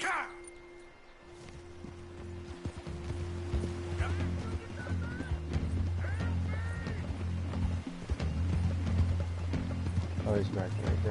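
Horse hooves clip-clopping in Red Dead Redemption 2, a steady rhythmic trot alongside a low engine-like drone and mechanical clicks, with a horse's whinny and a voice breaking in.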